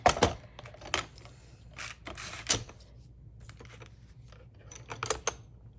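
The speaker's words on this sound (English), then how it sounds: "Then let's get our trimmer. So I trim this even." A paper trimmer cuts scrapbook paper at close range, with a few crisp slicing and clacking strokes spaced apart and quiet gaps between them.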